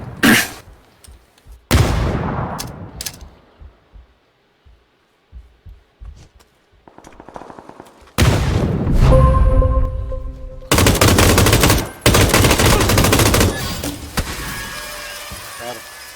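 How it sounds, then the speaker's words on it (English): Rapid gunfire: loose single shots come first, then long, loud bursts of automatic shooting close by, with people talking and shouting between the shots. "Stop shooting."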